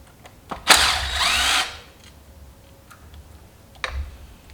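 A power tool whirs in one short, loud burst while backing screws out of a 1955 Chevy carburetor, then small metallic ticks and clicks follow in the quiet.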